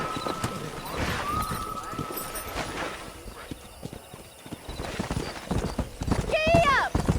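A horse gallops under its rider in the video game Red Dead Redemption, rapid hoofbeats drumming close and loud, with a voice speaking over them and a whinny near the end.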